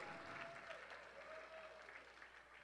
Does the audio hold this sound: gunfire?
no